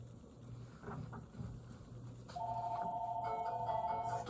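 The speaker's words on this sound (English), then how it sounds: "excuse my phone while it's going off." A mobile phone ringtone begins partway through and repeats as a steady electronic melody over a faint low background hum, with no one talking.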